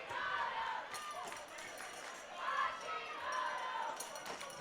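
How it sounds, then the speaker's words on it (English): A dodgeball crowd in an arena at a world championship chants a player's name in rhythmic waves, a loud massed chorus rising and falling with cheers and court noise. "Hashimoto is what the crowd is chanting there"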